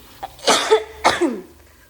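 Two coughs from a person cooking nila goreng (fried tilapia) with candlenut sambal, each a short harsh burst with a trailing voiced tail, close and fairly loud, about half a second apart, over a faint quiet kitchen background.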